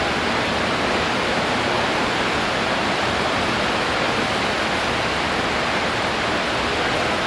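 Water surges at about 10,000 gallons per minute through a high-volume flow test rig, making a loud, constant broadband rush with no pauses.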